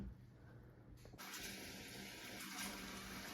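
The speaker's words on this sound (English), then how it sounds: "So I'm gonna get some clean cold water in this sink." Clean cold water running from a tap into a kitchen sink, a steady rushing flow that swells as the stream starts and fills the basin, faint and alone.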